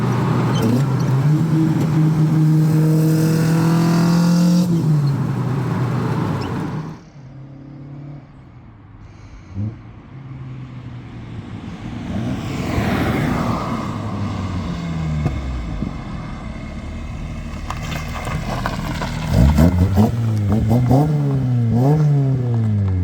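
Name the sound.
car exhaust engine revving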